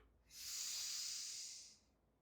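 One long, soft exhale from a breathing exercise for anxiety, a breathy hiss of air close to the microphone that swells and fades over about a second and a half in a quiet room.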